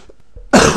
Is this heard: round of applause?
no